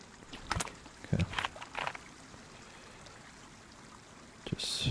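Water splashes and gurgles in short bursts as a character drinks from a stream in DayZ, several brief sloshing slurps over a faint running-water background, with a louder splash at the end.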